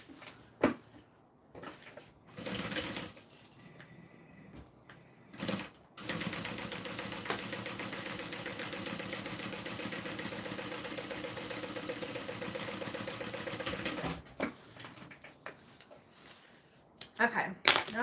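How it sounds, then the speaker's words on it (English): A sewing machine top stitching two pieces of a bag together, running in one steady whirring stretch of about eight seconds between quieter handling sounds and brief starts, close by, with some talk around it. "now we're going to top stitch these two together."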